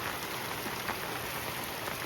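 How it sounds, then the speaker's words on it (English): Heavy rain pours onto a rain poncho in a vegetable garden, a dense, steady hiss of drops that never lets up. "The rain's actually getting through my rain poncho."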